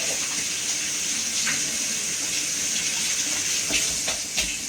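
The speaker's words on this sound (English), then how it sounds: "Let me rinse my hands off." Water running from a kitchen tap while hands are rinsed underneath, a steady close hiss and splash with a few brief clatters near the end.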